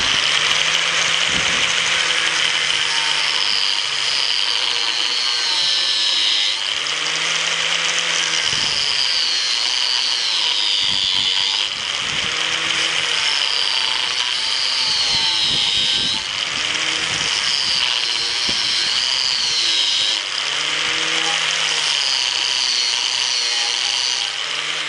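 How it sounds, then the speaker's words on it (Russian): A power tool cuts through metal pipe to make two bushings at once, a continuous loud grinding whine with rhythmic pulses and scraping strokes repeating throughout, heard up close with no talking. "сразу две втулочки режем"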